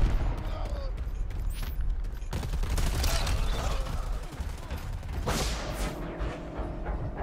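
Gunfire in the Predator: Hunting Grounds video game, dense bursts and booms scattered through the stretch, steady and fairly loud, with a few sharper shots standing out.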